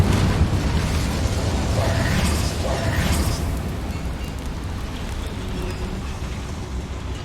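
An Incendio fire spell cast in the Hogwarts Legacy video game inside a mine, a loud roaring whoosh of flame with booming bursts, fading into a steady rumbling background.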